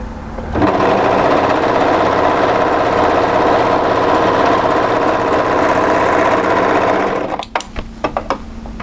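A sewing machine stitches steadily for about seven seconds, pivoting through a cardigan's underarm to sew the short side seam, a loud continuous mechanical whir that stops and gives way to a few light clicks and handling noises.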